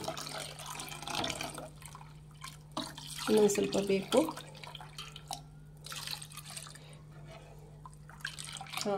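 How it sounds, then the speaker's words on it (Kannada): Lentil cooking water is poured into sambar for an Ugadi festival meal, a soft trickling splash that rises briefly in the middle, with someone speaking over it. "ಬೇಳೆ ಕಟ್ಟಿದ ನೀರು ಹಾಕ್ಕೊತಾ ಇದ್ದೀನಿ"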